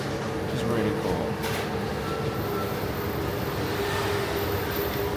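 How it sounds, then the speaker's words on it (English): A subway train ride in Vietnam, heard as a continuous loud rumble and hiss of the carriage in motion, with steady wheel and track noise throughout. "Vietnamese subway to put it into simple terms, I guess."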